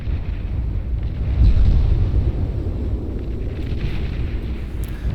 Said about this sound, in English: it's firing a whole hell of a lot of artillery